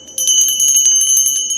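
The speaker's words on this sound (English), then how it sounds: "I feel like the bells need to ring all throughout the home" A bright, sustained bell rings with rapid repeated strikes, loud and close, shimmering steadily for over a second with no voices.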